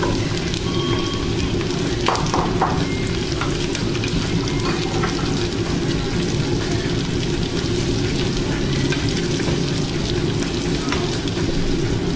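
Chopped carrot sizzling steadily in a hot frying pan of oil, a loud continuous crackling hiss with faint clinks early on, unbroken throughout.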